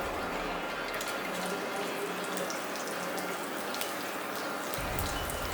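Curry leaves and black mustard seeds sizzle in hot oil, a steady close hiss dotted with sharp crackling pops that runs through the whole stretch without a pause.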